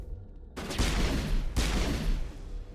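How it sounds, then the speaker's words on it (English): Pistol shots in the video game Mass Effect, two loud separate shots about a second apart, each with a long booming decay. "my pistol shoots so slowly"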